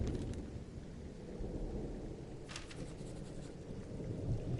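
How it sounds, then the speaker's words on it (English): A thunderstorm in the Firewatch video game: a deep, sustained rolling rumble of thunder with a steady hiss of rain, heard alone and fairly quiet. "Oh, the thunder sounds real."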